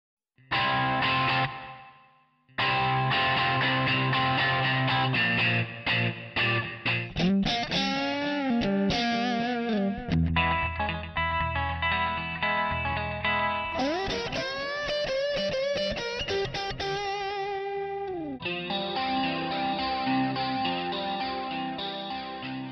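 Electric guitar played through a VoiceLive 3 effects unit: distorted chords, chorus shimmer and echoing delay repeats, with short pauses between the different tones.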